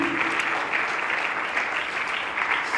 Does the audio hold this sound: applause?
yes